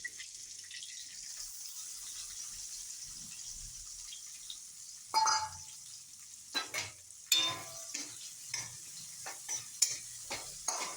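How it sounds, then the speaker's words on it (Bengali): Chopped onion goes into hot oil with whole cumin and a torn bay leaf for a fig curry. A faint steady sizzle is followed by louder scrapes and knocks of a spoon stirring in the pan. "পেঁয়াজটা একটু ব্রাউন করে ভেজে নেব"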